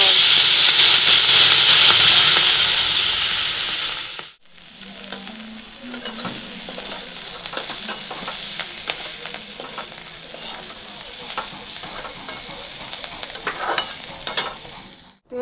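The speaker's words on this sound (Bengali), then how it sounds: "এবারে দিয়ে দিব জল।" Water poured onto frying spices in a hot pan sets off a loud burst of hissing steam that drops away after a few seconds into quieter bubbling sizzle with stirring scrapes and clinks.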